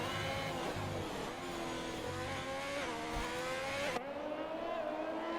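Alfa Romeo race car in a racing video game crossing the line on a qualifying lap at the Mexico City Grand Prix, a steady high engine whine with rising gear tones, close and loud throughout, pitch jumping near the end.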